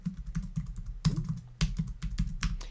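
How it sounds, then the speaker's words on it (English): Keys on a computer keyboard clatter in a quick, uneven burst of close clicks as text is typed into lettering design software, with no voices. "we're going to type in holiday"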